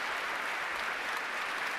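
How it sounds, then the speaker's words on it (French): A concert audience in Studio 4 at Flagey applauds after Elisso Virsaladze's Mozart and Chopin piano recital closing the Flagey Piano Days, producing a dense, even clapping that fills the room without pause. "vous entendez encore les applaudissements"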